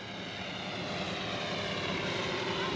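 A GoPro Karma drone flies overhead, its propellers giving a steady, loud, close buzzing whir that holds level throughout without talk.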